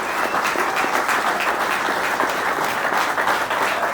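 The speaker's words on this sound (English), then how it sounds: "Let's give Jeremy one more round of applause." Sustained, loud clapping from a crowd at a PGA Championship welcome reception applauding Jeremy, a steady dense patter from start to finish.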